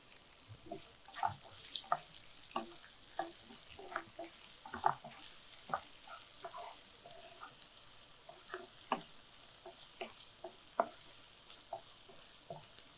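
Onions sautéing in a pan, a soft steady sizzle broken by scattered clicks and scrapes of stirring, quiet and close with no talking.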